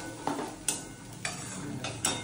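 Moong dal fries in a pan with a steady close hiss, while a spoon scrapes through it every half second or so.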